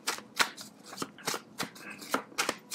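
Arcanum tarot cards being shuffled by hand close up, a run of crisp riffling bursts and soft slaps repeating every half second or so, with no talk over them.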